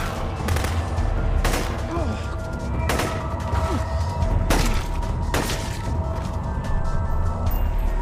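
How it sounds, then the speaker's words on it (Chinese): A volley of gunfire from soldiers in a zombie film scene: about six sharp, loud shots at uneven intervals over a low steady rumble. "可突然响起的枪声，又将他从丧尸的口中救了下来"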